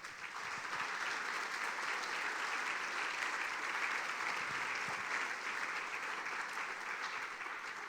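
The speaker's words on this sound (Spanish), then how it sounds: "Denle un fuerte aplauso al Señor." A church congregation claps in a sustained, even wave of applause, moderately distant and unbroken throughout, with no voices rising above it.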